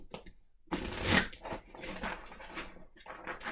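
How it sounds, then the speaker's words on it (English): Cards riffle and flutter in a quick close-up shuffle, a rapid papery burst followed by softer bridging and handling sounds. "I'm going to take this deck of cards and shuffle it."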